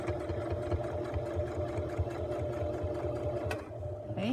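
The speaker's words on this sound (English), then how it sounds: "Place your presser foot back down, and you're going to continue to stitch." A sewing machine stitches a centred zipper with a steady, rapid mechanical hum and rhythmic needle thumps, moderately quiet and close, with a brief pause and faint clicks near the end.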